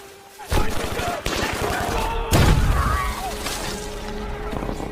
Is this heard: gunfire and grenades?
yes